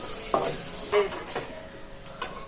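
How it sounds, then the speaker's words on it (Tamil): Onions sizzle in a hot pan while a utensil scrapes and stirs a few times at irregular intervals. "வெங்காயம் வந்து நல்லா வதக்கிற வரைக்கும் நல்லா வதக்கிக்கலாம்"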